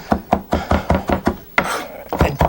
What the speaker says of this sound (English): you've got a bunch of parsley, and just go back and forth this way. See how it's chopping?